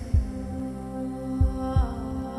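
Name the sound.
heartbeat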